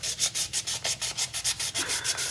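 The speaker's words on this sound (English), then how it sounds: "I take my 400 grit sandpaper and I like to rough it up" 400 grit sandpaper is rubbed back and forth over an acrylic keychain blank to rough it up, a quick rhythmic series of about a dozen close, raspy strokes.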